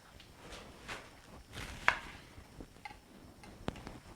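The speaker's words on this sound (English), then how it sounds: "now you have to cut your onion" A knife cutting an onion on a cutting board, a scattering of quiet, close, irregular taps and chops with one sharper knock; there is no talk.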